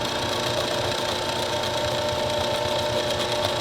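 Electric hand mixer whirring steadily through sugar cookie dough, a loud, constant motor drone close up with no voices.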